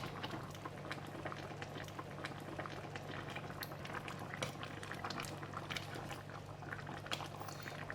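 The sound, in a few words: fish head curry with Spanish mackerel bubbling in pot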